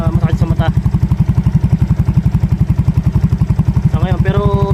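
A motorcycle engine fitted with a new 30mm carburetor, running slightly lean while still cold, idles with a steady, close, rapid thumping pulse, and brief talk is heard near the start and end.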